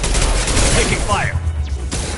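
Gunfire in the Mass Effect 2 Legendary Edition on PS5, a dense rumbling burst of shots over a low battlefield roar, with brief shouted voices under it.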